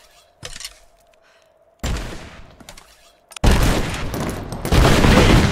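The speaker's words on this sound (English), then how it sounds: "I forgot that had a chain explosion on it." Rapid chain of explosions from an upgraded weapon in a video game: scattered pops and bursts, then a sudden loud, dense roar of blasts that rolls on for the final seconds.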